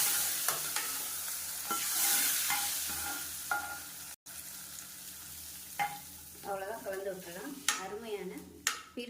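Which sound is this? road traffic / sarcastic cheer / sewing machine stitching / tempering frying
tempering frying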